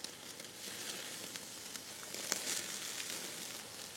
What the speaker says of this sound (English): start to sear them off right over those coals